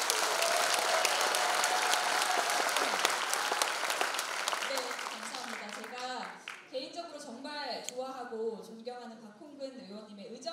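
An audience at a parliamentary report meeting applauds loudly in a dense, sustained burst that fades after about six seconds, giving way to talking and murmuring voices that carry on to the end.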